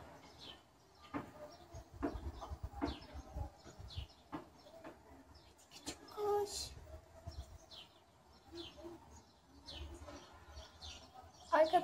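A bird trapped inside a chimney pipe gives short, sharp chirps scattered through the clip, muffled and intermittent, with low voices and indoor rumble in the background.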